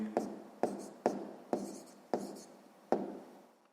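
A pen writes on paper in a series of six short scratching strokes, each a quick tap-and-scrape fading away, evenly spaced, quiet and close, with no one speaking.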